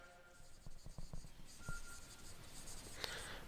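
A teacher writing on a classroom board, making a string of short tapping and scratching strokes followed by longer scraping marks, faint and close against a quiet room hiss, with no one talking.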